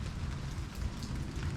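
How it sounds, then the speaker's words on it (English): Light rain in Houston, Texas, during Tropical Storm and Hurricane Nicholas, a steady soft patter of drops on surfaces with a low rumbling wash underneath, continuous and fairly faint, with no voices. "it is still raining to a degree"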